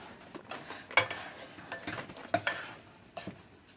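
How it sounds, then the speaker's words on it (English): Homemade cheese sauce for mac and cheese being stirred in a pan: soft intermittent scraping and clinks of a utensil against the pot over a faint background, fairly quiet and close, with no talking. "Just need to stir it and get it."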